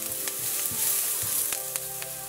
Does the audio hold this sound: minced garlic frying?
yes